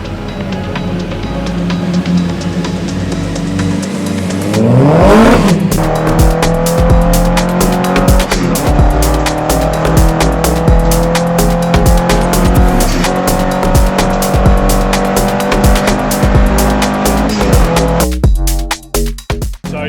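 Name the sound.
race cars on track during qualifying, Donington Park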